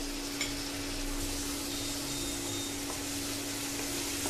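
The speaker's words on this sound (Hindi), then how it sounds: "कटे हुए टमाटर को डाल देंगे" Chopped tomatoes added to spices already roasting in a pan for a homemade baigan palak curry, giving a soft continuous fry with faint stirring and a steady low hum underneath.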